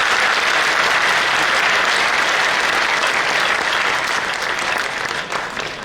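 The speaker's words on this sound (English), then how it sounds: "Please give a huge round of applause for all the PhD recipients" Loud, sustained applause from a large audience at a university convocation ceremony, honoring PhD recipients; dense steady clapping throughout, tapering slightly near the end.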